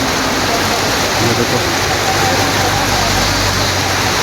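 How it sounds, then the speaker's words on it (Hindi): Heavy monsoon rain pours down on a misty hill road in Dhanaulti, Uttarakhand, a loud, dense, unbroken roar of rainfall close by, with a brief spoken remark underneath. "और खतरनाक बारिश हो रही है।"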